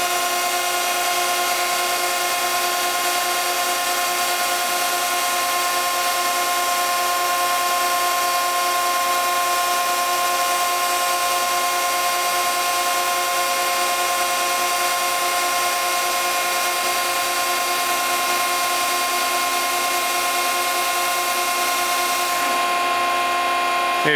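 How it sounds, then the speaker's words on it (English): A hydraulic press runs all the way up and clamps, giving a loud, steady mechanical whine and hum with strong sustained tones that hold for over twenty seconds before shifting near the end. "This time we'll go all the way up with the press and clamp it."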